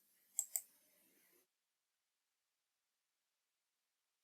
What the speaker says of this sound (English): then click on OK